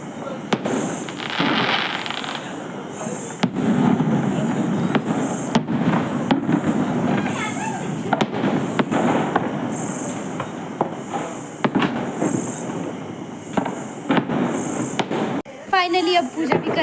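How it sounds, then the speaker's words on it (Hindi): Diwali firecrackers in Himachal pop and bang irregularly, some near and some distant, under background voices, with a whistling rocket near the end. "और ये देखो पटाखे कैसे जल रहे हैं।"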